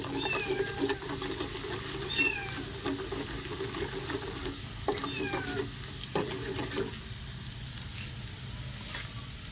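Crab fat (taba ng talangka) toasting in a pan gives a steady, close crackling sizzle with intermittent scraping and a few higher squeaky tones, moderately loud and continuous, with no talking.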